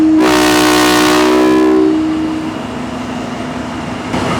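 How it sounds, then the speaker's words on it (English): A loud train horn blasts for nearly two seconds at Wakaf Baru station, then fades into a rumbling, hissing rail noise that continues steadily. "So this is the train Wakaf Baru."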